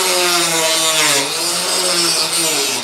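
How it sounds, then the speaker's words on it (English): A Dremel rotary tool grinds and scoops into a lead figure clamped in a vise, making a loud, continuous high-pitched whine that dips in pitch briefly partway through, close up. "you take a Dremel and you kind of scoop in there and get it out"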